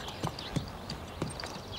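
Horse hooves clip-clop in a slow, uneven rhythm of three or four soft knocks, moderately close against a quiet outdoor background.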